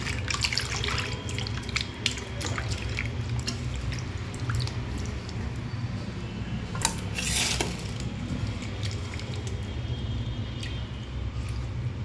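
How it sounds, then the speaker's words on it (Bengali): A catla fish being washed in a sink under a running tap, with a continuous water hiss, splashing and occasional clinks of dishes and metal, no talking. "চলো ধুয়ে নিই"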